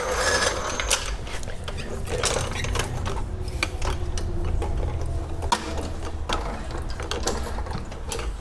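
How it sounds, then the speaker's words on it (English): Jack raising a John Deere D130 lawn tractor in a workshop, a steady series of rapid mechanical ratcheting clicks close by, continuous throughout. "let's go ahead and jack this up and get that"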